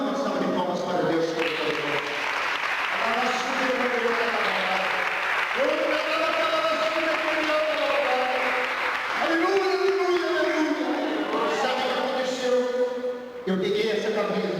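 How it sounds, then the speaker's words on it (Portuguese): A church congregation claps steadily for about fifteen seconds, a dense, continuous wash of hand claps mixed with loud voices cheering and calling out over the top. "Vamos dar uma salva de palmas para Deus."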